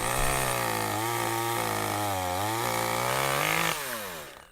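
A chainsaw cuts into willow during pollarding, the engine droning loudly and close as its pitch dips and rises under load, then drops off near the end.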